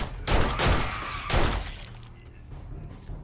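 Gunfire in the video game 7 Days to Die, two or three heavy booming shots in quick succession, followed by a fading rumble.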